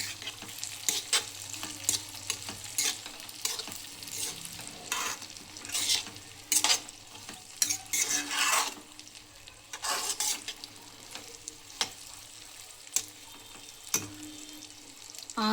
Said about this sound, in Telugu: ఫ్రై చేసుకున్నటువంటి గుడ్డుని ఇందులో వేసుకొని ఫ్రై చేసుకోవాలి. ఇలా కలుపుకోవాలి బాగా.